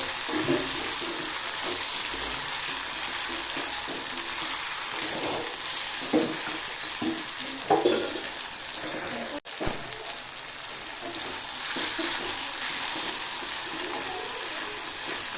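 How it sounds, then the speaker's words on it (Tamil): Tomatoes sautéing in a hot pan for egg gravy, a steady close sizzle and hiss running the whole time with occasional stirring scrapes, no talking. "தக்காளியை சேர்த்து நல்லா வதக்கிடலாம்"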